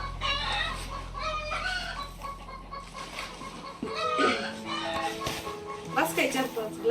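Hens in a farmyard cluck and chatter in a loose overlapping chorus, with calls piling up and growing busier near the end, close to the listener.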